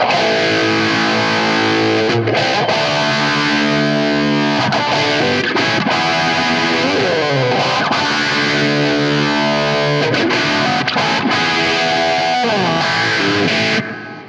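A distorted electric guitar runs through a Two Notes Genome rig with a Marshall cabinet and analog delay, playing loud sustained riffs and chords with a vintage rock edge and delay trails, continuous and up front.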